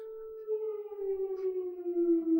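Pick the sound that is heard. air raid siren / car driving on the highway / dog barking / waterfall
air raid siren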